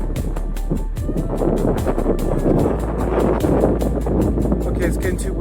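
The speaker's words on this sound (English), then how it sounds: "it's getting too windy" Strong wind buffets the microphone at an ancient mountain watchtower ruin, a constant loud roaring rumble with gusts throughout, under which a voice can be heard.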